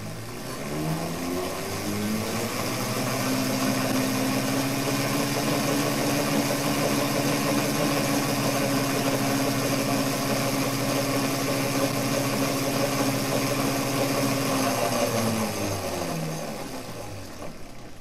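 An FTC AC generator runs up with power supply noise, a steady mechanical hum with tonal whine that rises over the first few seconds, holds level, then winds down near the end, close and without talk.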